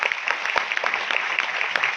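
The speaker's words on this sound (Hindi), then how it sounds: "तो मैं चाहूंगा एक बार जोरदार ताली अपने लिए बजा लीजिए" A seminar audience at a women's empowerment programme in India gives loud, sustained applause, many hands clapping densely at an even level close by.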